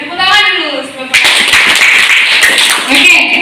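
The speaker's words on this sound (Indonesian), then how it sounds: "Tepuk tangan dulu." Students at a junior high school museum visit clap their hands right after a spoken line, giving a loud burst of close, dense clapping that carries on for a few seconds.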